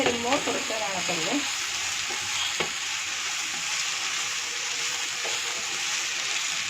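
Cabbage stir-fried in a pan for vegetable noodles, a steady close sizzle with scraping stirs and a few clinks, continuous throughout with no talking.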